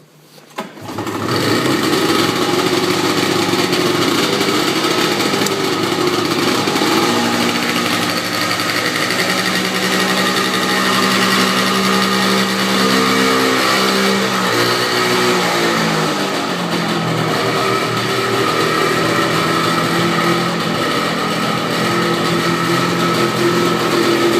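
A vintage Ski-Doo Elite snowmobile engine catches and runs loud and close for over twenty seconds. Its steady buzzing idle is broken by a couple of brief rev changes, with no voices.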